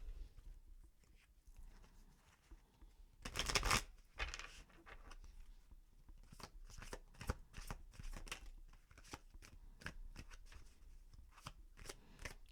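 A deck of tarot cards is shuffled during a reading, giving a run of crisp, riffling card flutters and sharp slaps at an irregular pace, close and fairly quiet, with one louder burst near the start.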